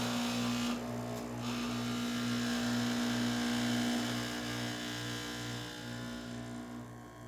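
A vibratory pump on an espresso machine buzzes steadily during extraction, a close, loud pulsing hum that holds the whole time before easing slightly at the end.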